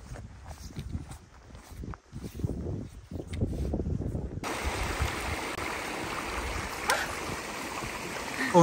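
The Turiri River flowing on Mount Kenya, a steady rushing of water that grows louder and closer partway through, with footsteps and light movement before it.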